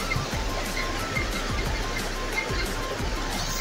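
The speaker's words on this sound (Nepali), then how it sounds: "यतातिर पानीको आवाज धेरै आइरहेछ" Water rushes steadily at a waterfall, a constant close hiss and churn with faint low surges throughout.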